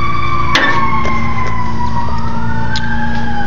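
A fire engine siren wails loudly in a steady rising-and-falling tone as it passes, its pitch sliding downward while an engine rumbles underneath and faint clicks sound nearby.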